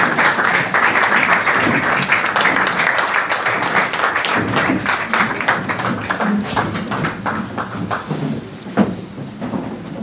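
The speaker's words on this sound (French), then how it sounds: "Veuillez vous asseoir en applaudissant pour notre Seigneur." A church congregation claps continuously at a charismatic French-language worship service, steady dense applause filling the room with some voices mixed in.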